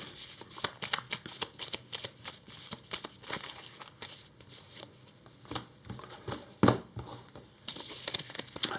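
A deck of game cards is riffled and shuffled for the Earthborne Rangers board game, a rapid run of crisp papery flutters and slaps with short pauses, close and fairly loud.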